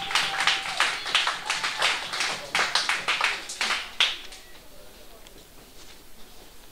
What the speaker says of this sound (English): let's give the union a round of applause